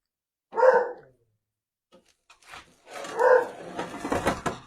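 Older dogs bark in two loud bursts a few seconds apart, with scattered faint sounds between them and busier noise after the second bark.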